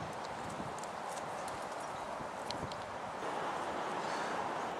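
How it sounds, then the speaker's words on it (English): Cows walk around on a grassy riverbank, their hooves thudding and rustling through vegetation nearby, steady and fairly quiet under outdoor wind, with no talk. "Getting surrounded by cows here."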